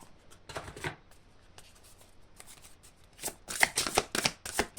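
Oracle cards shuffled by hand, a faint flutter early on followed by a louder cluster of quick, crisp riffles and slaps close by, with no voice heard.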